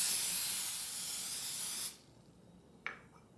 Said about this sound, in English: I'll just spray them with some pan baking spray